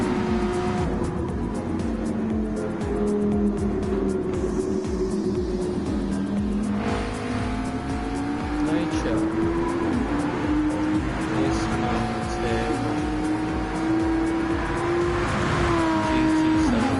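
A race car in Gran Turismo 7 at Fuji is heard with its engine note dropping and shifting under braking amid surrounding cars, with tyre noise continuous and fairly loud throughout, and a commentator talking over it.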